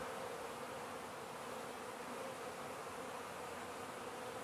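Honeybees fly around a hive during a swarm check-up, making a continuous, dense buzzing drone. The sound stays steady and fairly loud throughout, with no speech.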